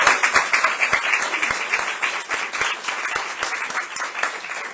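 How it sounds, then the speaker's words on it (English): An audience at a small-business funding announcement applauds continuously for several seconds, a dense wash of many hands with a few louder individual claps standing out near the front, steady and moderately loud. "You need to clap."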